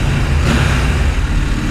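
A motorcycle engine roars steadily as it passes, loud and close near a small viaduct under a railway line, a dense continuous rumble with no talking over it.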